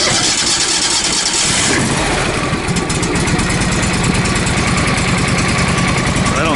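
A small sawmill engine runs steadily at a high idle, a loud continuous mechanical drone with a dense rhythmic firing pulse throughout.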